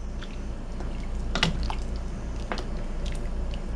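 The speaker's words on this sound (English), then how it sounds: "Give them a little stir" Dumplings being stirred into a chicken pot pie stew, giving soft wet squishes and a couple of brief clinks against the pot, close and fairly quiet over a low steady background.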